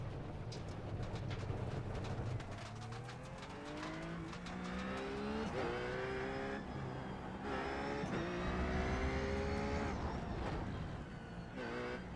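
A GT race car in the iRacing sim revs hard through the gears, its engine note climbing repeatedly in steady rising sweeps, loud and close with no talk over it.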